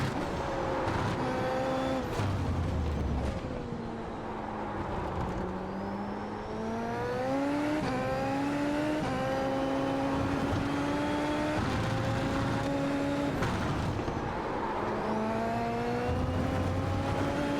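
A race car engine in iRacing drones steadily up close, rising and falling in pitch through gear changes and braking, with no talk over the continuous whine.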